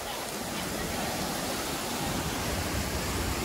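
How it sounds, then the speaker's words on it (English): Water rushes loudly and steadily where a river meets the ocean in the Philippines, a constant dense roar of flowing water and surf. "this is where the river meets the ocean."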